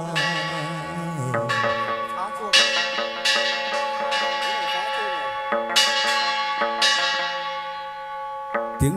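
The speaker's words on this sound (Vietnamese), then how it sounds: "Tiếng chuông chùa Hàn Sơn chân cô bước xuống thuyền" A temple bell in a Vietnamese hát văn ritual song, struck several times with bright, ringing overtones that bloom and slowly decay, overlapping with sustained instrumental tones and singing.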